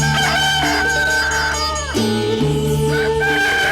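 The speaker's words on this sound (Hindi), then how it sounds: "तब उसने मुर्गा बनकर बांग दी।" A rooster crows loudly and up close in two long, tonal cock-a-doodle-doo calls, with a musical soundtrack playing underneath, in a dramatized epic scene set at false dawn.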